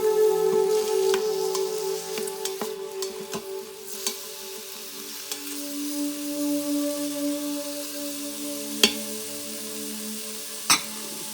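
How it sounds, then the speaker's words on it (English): Onions sautéing in an Instant Pot on its sauté setting, a steady close sizzle with scattered light scrapes and occasional sharp clinks of a spoon against the metal insert, no voices. "We will let the onions cook in saute mode for about 2 to 3 minutes."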